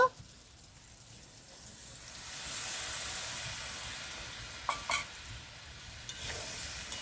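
Yogurt being stirred into masala potatoes in a pan, a soft sizzle and hiss rising steadily with a few scraping stirs of the spoon near the end, fairly quiet and close.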